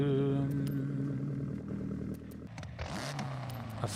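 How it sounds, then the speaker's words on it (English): A car engine in the video game Forza Horizon 6 runs loud and steady with a harmonic drone for about two and a half seconds, then drops to a quieter, rougher idle, with a few clicks scattered throughout. "Of course, I want my engine to be loud."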